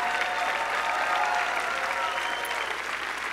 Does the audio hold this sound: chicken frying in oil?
no